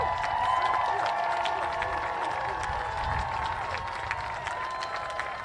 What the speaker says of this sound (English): Let's make it nice and loud for them.